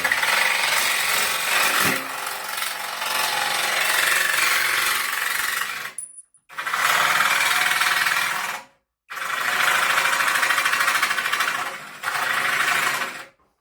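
A jigsaw buzzes loudly cutting the edge of aluminium in three long bursts, with brief pauses between cuts and a harsh, rasping vibration up close.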